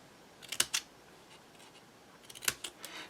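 Scissors snip a small notch in paper trimmed to the corner of a chipboard piece for a summer windmill craft: two quick clusters of crisp cuts, close and fairly quiet, separated by a pause.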